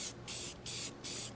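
Three short hissing bursts of barbecue black spray paint from an aerosol can, coating a motorcycle fender on a 1981 Honda CM200T Twinstar, evenly spaced with brief pauses, close and fairly loud.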